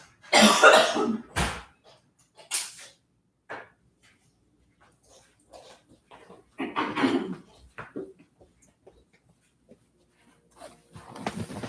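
A woman coughs in a couple of strong bursts, then quieter scattered coughs and rustling follow amid long stretches of near silence.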